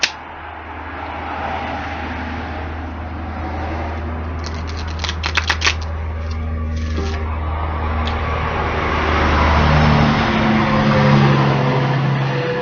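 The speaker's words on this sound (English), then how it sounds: "Enjoying the traffic going by on the highway" Highway traffic passing by a porch in North Carolina on a sunny day, a steady broad roar of vehicles with swelling passes and a few brief clicks, fairly loud and continuous.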